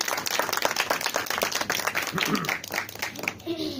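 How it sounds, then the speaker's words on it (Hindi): A church congregation breaks into loud, dense clapping that runs throughout, a rapid patter of many hands, while a few voices and a tonal call rise through the final second. "जोरदार तालियां खुदावंद के जलाल की।"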